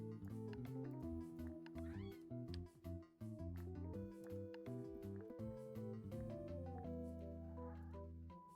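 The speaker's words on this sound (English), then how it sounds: "There's so many cats." Cartoonish cats meowing in the Slime Rancher 2 video game, several mewing calls layered over steady, busy in-game music that carries on throughout with no one speaking.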